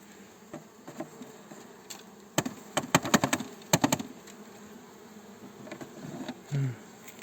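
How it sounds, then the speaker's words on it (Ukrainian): Around a hive left with only a couple hundred bees and no stores, soft insect buzzing hums faintly in the background, broken by a burst of sharp clicking taps in the middle and a brief low drone near the end. "в Штук 200 тих бджіл є."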